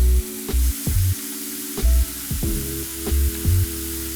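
Onions and garlic frying in oil in a pan for pasta alla norcina, a steady close sizzle with several soft thumps and clatters of the pan or utensil, no voices.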